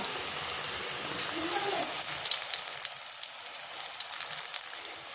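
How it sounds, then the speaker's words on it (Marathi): Bhaje fritters frying in oil over a low flame, a steady close crackle with fine bubbling pops and spatters throughout, moderately loud, with faint low background noise beneath. "आता हे भजे काढून घेते सगळे भजे म्हणजे तळून घेऊ आणि व्यवस्थित आता कमी गॅसमध्ये तळायचे"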